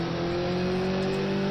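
A race car in a racing video game at Brno accelerates, its loud, steady engine whine climbing slightly in pitch throughout.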